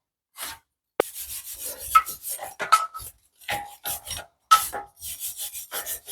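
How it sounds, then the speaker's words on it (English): Brake hub mating surfaces on an Audi Q7 (4L) are scrubbed clean with a brush or abrasive, heard as short rasping strokes repeated in quick uneven bursts close up, separated by brief silences. "Do a little bit of cleaning on the mating surfaces before you put that together."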